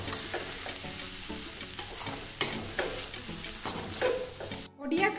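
Potato masala frying and being stirred in a pan, a continuous soft sizzle under repeated scraping strokes of a spatula, close and moderately quiet, ending in a brief pause and a final clatter.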